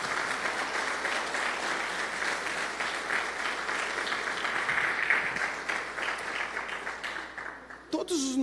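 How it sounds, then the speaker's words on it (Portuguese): A church congregation in Ireland applauds in praise, a dense, steady wash of clapping across the whole stretch that ends abruptly near the close, with a voice breaking in at the very end. "Você pode dar um aplauso ao Senhor por isso?"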